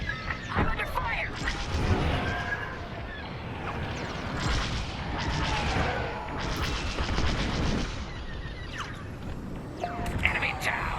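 A starfighter in Star Wars Squadrons in VR mode comes under enemy fire, with dense bursts of blaster fire and booming impacts over a constant roaring engine rumble, loud and chaotic throughout.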